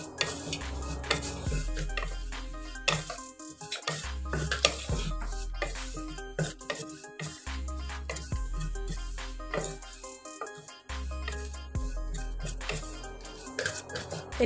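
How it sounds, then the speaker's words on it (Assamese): Flattened rice (poha) frying and being stirred in a pan over a lowered gas flame while making poha kheer: repeated scraping and clinking of a utensil against the pan in steady strokes, with a soft sizzle throughout, close and clear with no talk. "এতিয়া মই সিরা খিনি ভাল দৰে ভাজি লম"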